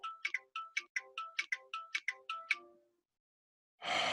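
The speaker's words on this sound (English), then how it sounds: "why is my phone going mental?" Mobile phone ringtone chirping in quick bright bursts, about a dozen notes in a rhythmic pattern close by, then stopping, followed by a short burst of noise.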